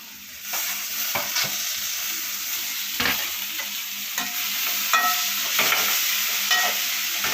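Tomatoes fry for drumstick poriyal, giving a steady close sizzle broken by regular scrapes and knocks of a stirring spoon against the pan. There is no talking.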